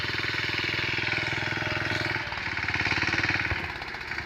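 A tractor drives through a lemon orchard, its engine chugging in a steady, loud rumble that fills the whole stretch without a break.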